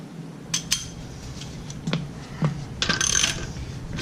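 A ratchet wrench with a 19mm socket loosening wheel hub nuts on a 2014 Ford Explorer: scattered metallic clicks and clanks up close, ending in a short rapid burst of ratcheting.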